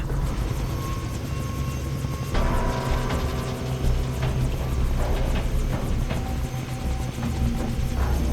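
A helicopter in the shooter game Far Cry 3 thrums loudly and constantly with rotor chop, alongside scattered sharp impacts and other game noise, and no speech.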